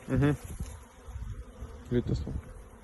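Package bees, 1.5 kilograms, buzz in a low, steady hum close by during hive installation, with scattered bumps and a couple of brief louder bursts.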